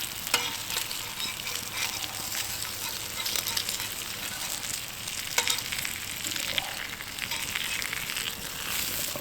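Eggs fry on an antique Wagner Ware cast iron "Fat Free Fryer" griddle, giving a steady close crackling sizzle with small pops throughout, and only faint voice in the background.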